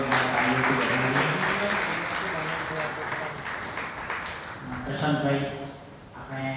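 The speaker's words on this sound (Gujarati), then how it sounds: "આપણે અજીતભાઈને જોરદાર તાળીઓથી વધાવીએ." An audience at a library talk event claps to welcome the guest speaker. The steady applause runs throughout, partly under a person talking.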